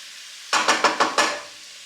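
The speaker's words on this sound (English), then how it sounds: "Give it a good stir, put the lid back on" Cabbage stew with smoked sausage stirred in a pot, five quick wet scraping swishes in a row, close and distinct, followed by quiet, no talk.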